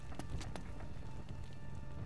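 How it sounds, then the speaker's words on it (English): Horse hooves clip-clopping in Uncharted 3, a quick run of hoof taps over steady game ambience with low rumbling, fairly faint and without talk. "That was gonna be the horse."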